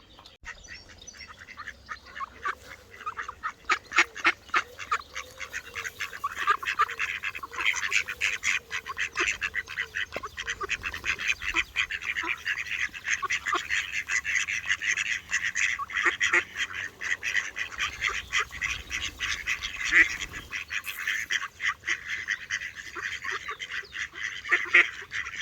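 Ducks and geese gather by a park bench, giving a long run of loud, overlapping honks and quacks from nearby birds, with no talk.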